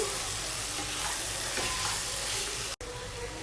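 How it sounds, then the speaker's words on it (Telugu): Tomatoes fry in a pan for paneer butter masala, giving a steady, close sizzle with some stirring noise. The sound continues unbroken for the whole stretch, apart from a short cut near the end, and nobody speaks. "ఈ స్కిన్ అనేది సపరేట్ అయిపోయేంత వరకు ఇవి ఫ్రై చేసుకోవాలండి"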